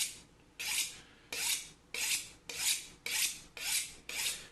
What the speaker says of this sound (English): So I just honed that.